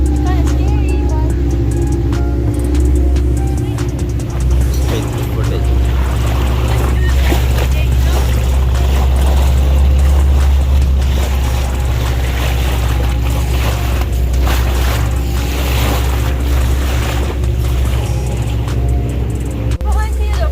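A boat ride on Khanpur Dam, with a steady, loud engine drone and low rumble throughout, wind and water noise on top, and people talking over it.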